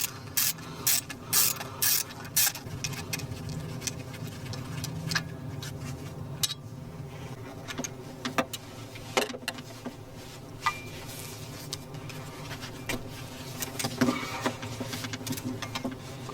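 A wrench works a 13 mm nut on a BMW serpentine belt tensioner, giving a steady run of close ratcheting clicks and metallic taps throughout.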